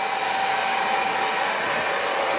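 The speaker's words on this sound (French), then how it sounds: "Ah, punaise, Buddy, les sèche-cheveux, on l'avait oublié." A handheld hair dryer blows steadily and loudly at close range, a continuous even whoosh with a faint whine and no pauses.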